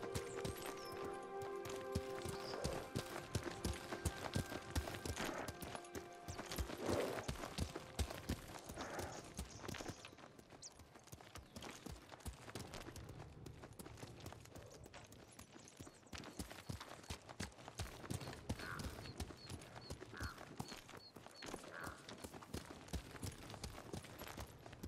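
Horse hooves clip-clop steadily in Ghost of Tsushima, the rapid footfalls of a ridden horse running throughout over a layer of background game music and ambience, with no talk.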